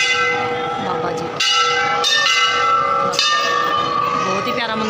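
A temple bell is struck three times at an even pace, each ring clanging brightly then fading, with ambient murmur underneath.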